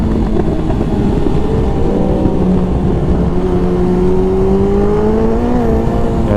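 Sport motorcycle engines, a Suzuki Hayabusa and a Yamaha FZ10, drone loudly and steadily up close, their pitch slowly climbing and easing as the throttle shifts, with no talk over them.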